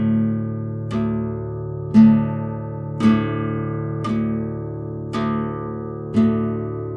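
Slow three-finger rasgueado strumming on an acoustic guitar: six evenly spaced, ringing strokes about a second apart, each a bright chord attack that sustains into the next, played alone with no talking.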